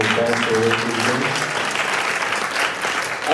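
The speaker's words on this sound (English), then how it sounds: "So I think we should give him a round of applause for what he's doing" An audience at a film festival Q&A gives a round of applause, close and loud, a full burst of steady clapping with some voices mixed in, lasting a few seconds.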